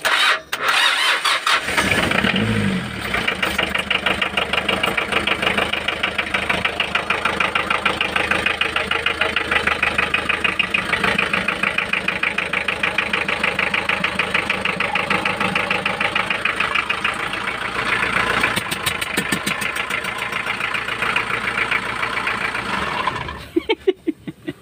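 An overhauled Hyundai H100 engine cranks, catches and settles into a steady rough idle that runs loud and close for about twenty seconds, then cuts off.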